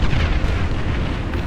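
Dense, continuous rumbling explosions from heavy bombardment in the strategy video game Beyond All Reason, loud booms blending into a constant roar.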